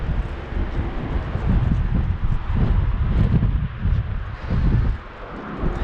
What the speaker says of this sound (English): The wind is ridiculous today.